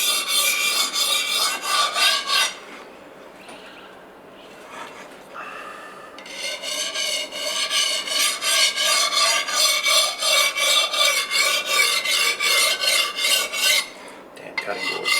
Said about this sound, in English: Just going really lightly. I don't want to hone too hard.